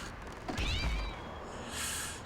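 Cartoon cat from the catapult gag in The Simpsons: Hit & Run video game: a single short, loud yowl rising and bending in pitch, followed by a soft swishing sound.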